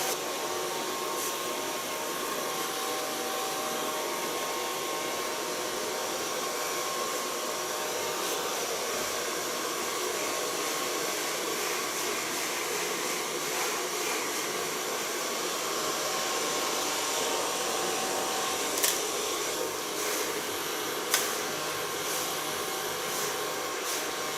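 A hair dryer blows steadily as it dries a fantasy-colored asymmetric haircut, a constant broadband whoosh that runs unbroken for the whole stretch with no voices over it.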